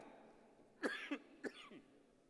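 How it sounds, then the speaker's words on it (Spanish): Two close, sharp coughs in quick succession, each with a short rough tail, in a quiet room with no talking, during a Mexico City Congress session. "Ya me agarró la tos."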